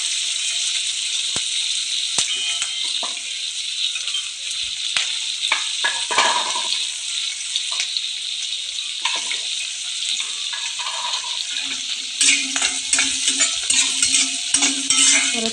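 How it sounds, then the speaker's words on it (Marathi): Onions sautéing for poha hiss steadily in a pan, with a bright close sizzle, intermittent spoon taps and scrapes, and a louder, busier stretch of stirring toward the end, no voices. "कांदा जरा ट्रान्सपरंट होईपर्यंत परतून घ्यायचा. चांगलं परतून घ्यायचं."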